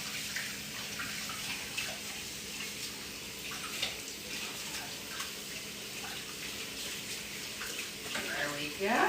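A kitchen tap runs steadily while hands are washed under it, a continuous close splashing rush with small shifts and a louder gush at the end, and a voice speaks over it.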